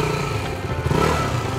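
Motorcycle held in first gear at fairly high revs while riding on sand, a steady loud engine drone with a slight rise in pitch and some mechanical clatter, no talk.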